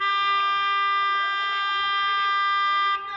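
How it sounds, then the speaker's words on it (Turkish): A car horn blares in one long, loud, steady honk that holds for about three seconds before cutting off, close and dominant over faint background noise. "Bakın korna sesini duyuyorsanız ya"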